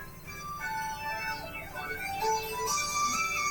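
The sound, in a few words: soft gentle background music in the video game Human Farm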